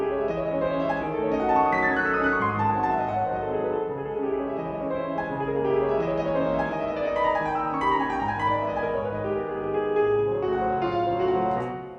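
Sampled VSL Bösendorfer Imperial Synchron piano on its ambient preset, a flowing passage of chords and runs with roomy, reverberant sustain, steady and full, unaccompanied by speech.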